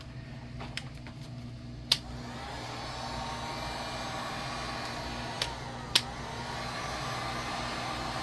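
A heat gun blows hot air onto a Kydex sheet being softened for a knife sheath, a quiet steady whooshing drone with a few sharp clicks and ticks scattered across it.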